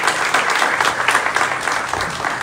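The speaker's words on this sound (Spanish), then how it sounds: "Un gran aplauso para todos" Crowd applauds outdoors at the inauguration of an ATM beneath a municipal palace, a loud continuous patter of many clapping hands, close and sustained throughout.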